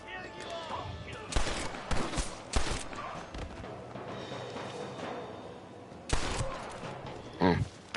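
Several sharp gunshots ring out in Red Dead Redemption, a few separated blasts plus a later pair, moderately loud over a busy in-game ambience with voices underneath.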